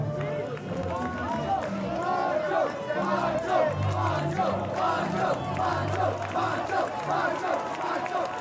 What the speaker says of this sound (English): The crowd chanting Pancho.